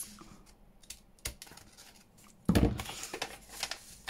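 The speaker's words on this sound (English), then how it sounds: "I brought my scissors up just at the end so that I didn't go through" Scissors cut straight across paper for a junk-journal ephemera folio insert: a few soft scattered snips, then a louder, crisp crunching cut midway that trails off, close and with no voices.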